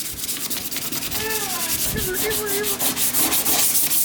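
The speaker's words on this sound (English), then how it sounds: "I've been sanding for quite a long time now" Continuous loud rhythmic sanding of Bondo body filler on a Nissan S13 car body, a steady abrasive scrubbing back and forth close by, with faint squeaky tones partway through.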